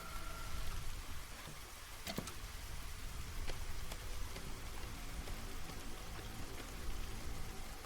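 Drizzle-season rain in the city-building game Against the Storm, a soft steady patter of raindrops with scattered sharper drops, moderately quiet and continuous with no talk.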